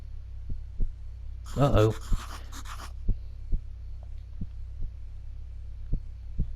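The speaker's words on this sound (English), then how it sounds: "Could hear his heart beating." A slow, regular heartbeat thumps low and dull over a faint hum, about one beat per second, with a brief burst of voice partway through.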